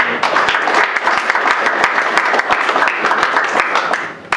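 An audience at a Veterans Day ceremony gives a round of applause for an Army veteran, loud, close, sustained clapping from many people with sharp individual claps standing out through the crowd.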